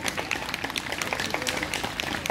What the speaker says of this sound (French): vous applaudissez, hein, s'il vous plaît